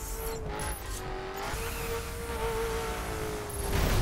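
A car engine hums and revs in the racing video game The Crew, holding a steady tone that builds louder toward the end, with no talking over it.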